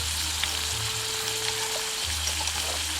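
Onions frying in a pan for a mackerel tomato curry at a solo campsite by a campfire: steady, continuous sizzling hiss with a low background hum, no talking.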